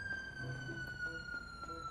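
Police car sirens wail steadily in a GTA RP video game city, a sustained tone held at moderate distance, with game background noise and a person talking over it.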